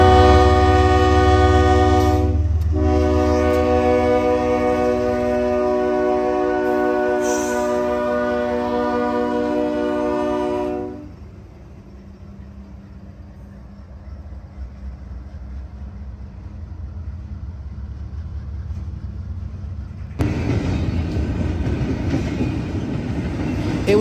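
A long freight train of double-stack intermodal cars rolls past in northern Ohio, a loud, steady rumble with a sustained horn blast for about ten seconds, then quieter rolling noise before the clatter swells again near the end.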